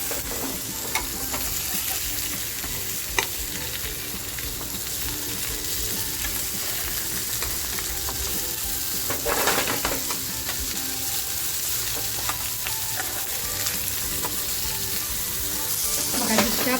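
Continuous close sizzling of Bombay duck fish frying in a pan, with occasional scraping stirs and soft clatters over the steady crackle.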